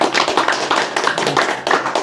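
A crowd applauds, dense rapid clapping from many hands, loud and close, continuing steadily throughout.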